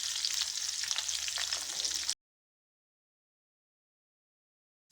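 Sliced onion frying in a pan of hot oil with mustard seeds, cumin, urad dal and green chili for eggplant curry, a strong close crackling sizzle lasting about two seconds before cutting to silence.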